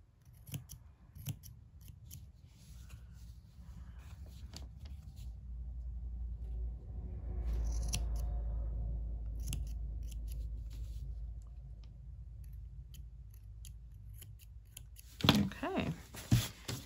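Scissors snip a few loose strands in brief crisp cuts, mostly near the start and end, over a low rumble of passing traffic.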